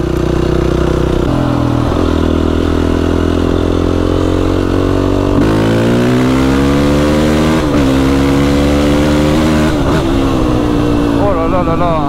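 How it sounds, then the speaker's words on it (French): A Yamaha YFZ 450R quad idles and revs through an FMF exhaust with the baffle removed, a loud, close, raw single-cylinder drone that climbs and falls in pitch several times across the stretch without pause. "J'ai décidé d'enlever la chicane pour essayer sur la ligne FMF. Et ça fait beaucoup de bruit"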